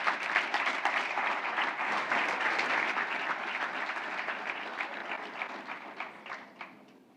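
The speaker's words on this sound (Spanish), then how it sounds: "Os pido un aplauso para ellos, por favor." An audience at a campus event applauding in a hall: dense, sustained clapping from many hands, fairly close, gradually thinning toward the end.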